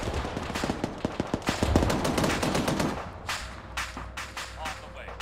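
Gunfire aimed at a tank in a multiplayer war game: rapid bursts of automatic fire fill the first three seconds, then sparser, more distant shots follow, with voices on radio chatter in the background.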